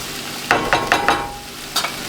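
Mushrooms cooking down in a frying pan while a frittata is prepared, with a steady sizzle and four quick scraping stirs in a row, then one more stir after a short pause, heard close up with no talk.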